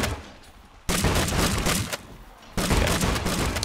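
A farm bot in the video game Scrap Mechanic fires in two dense bursts of rapid crackling gunfire, loud and close, separated by a short quieter gap.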